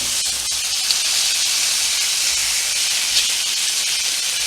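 A steak sears on a hot pan while being turned over, giving a loud, steady broadband sizzle with faint crackles throughout and no talking.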